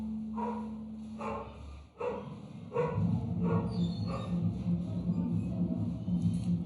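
A dog barks repeatedly nearby in a steady series of sharp yelps, roughly two per second, over a low hum from a wedding celebration next door.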